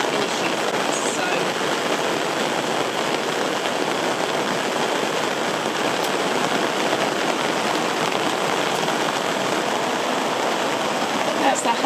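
Steady rain falls outdoors during a lemon balm herb harvest, a dense, even hiss throughout with a faint rhythmic patter and no talk rising above it.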